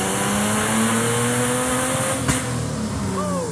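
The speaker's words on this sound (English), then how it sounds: "A little pop there, but it's a straight 6 Jeep, all right?" A turbocharged straight-six Jeep Wrangler engine revs hard, rising then dropping with a sharp pop midway, close and loud over a constant rumble.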